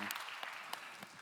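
Applause from a church congregation at a Sunday young adults' worship service, a steady dense clapping that fills the space throughout, with no voices on top.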